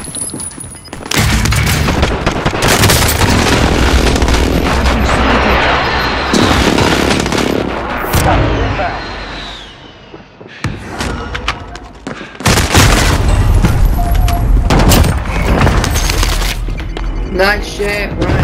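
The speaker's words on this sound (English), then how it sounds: "Enemy precision airstrike." Precision airstrike explosions in Call of Duty Modern Warfare on Rebirth Island, with loud continuous booming and rumbling blasts that pause briefly before a second heavy barrage. Voices are heard alongside.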